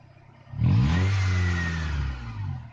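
A 1999 Honda Accord with a VTEC engine revs up from idle into a loud, sustained rev of nearly two seconds, then eases slightly, heard close.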